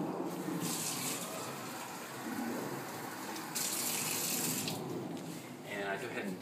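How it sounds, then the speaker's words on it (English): A tap runs while a cup of water is measured out for a sugar crystal solution, gushing in bursts that swell and ease, with a voice faintly present underneath. "Then, get 1 cup of water."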